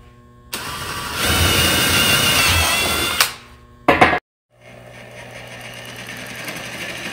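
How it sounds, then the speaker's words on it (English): A power drill whirs loudly for a few seconds drilling a hole in a pumpkin, winds down, gives a brief burst, then stops, leaving a low motor hum behind. "So first I'm gonna drill my hole."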